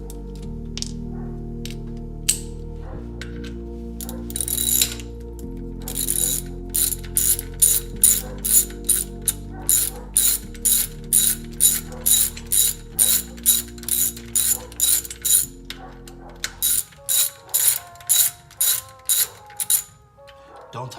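A ratchet wrench clicks rapidly in repeated bursts, tightening a 17 bolt on a bicycle brake during a cable to hydraulic conversion, loud and close over a low musical backing.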